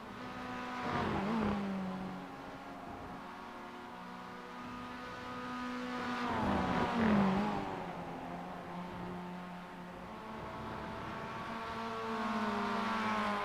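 Spec Miata race cars on a circuit during a race, their engines droning in a steady whine that rises and falls, with louder swells as cars rev out of corners and pass near.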